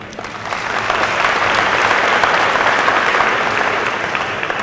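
An auditorium crowd applauds at a university homecoming convocation as a football coach is introduced, producing sustained, even clapping that swells in the middle and holds steady.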